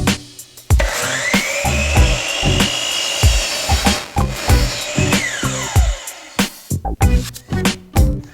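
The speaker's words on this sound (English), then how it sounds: "then I'll go ahead and lock down my saw at that angle, and I'm ready to make that cut." A miter saw set at an angle cuts through wood: a loud, steady motor whine with the blade biting into the board, then the tone winds down and a series of sharp knocks and clatter follows.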